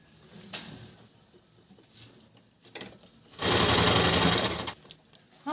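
A sewing machine runs one loud, steady burst of stitching along a salwar seam, preceded by quieter taps and fabric handling.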